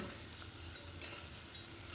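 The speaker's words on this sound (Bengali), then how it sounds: "দিয়ে দিলাম এবার পেঁয়াজ কুচিটা" Chopped onion sizzles in a pan of hot oil with a steady, dense hiss, close and fairly quiet, with faint stirring scrapes and no voices.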